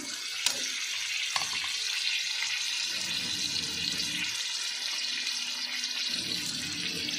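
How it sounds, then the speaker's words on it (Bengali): Warm water poured into a pan of spice masala made with coriander powder, turmeric, Kashmiri chilli powder and salt, for a prawn dish. A steady, loud watery hiss runs throughout, with a couple of sharp clinks near the start. "এবার একটু উষ্ণ গরম জল দিয়ে মশলাটা একটু কষিয়ে নেব।"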